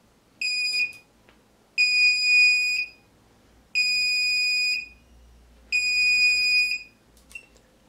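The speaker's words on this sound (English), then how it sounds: "that is now beeping when the pin is high" A buzzer driven by a transistor circuit on a homebrew computer sounds four loud, steady electronic tones, each about a second long, separated by short silences, close up and with no talk.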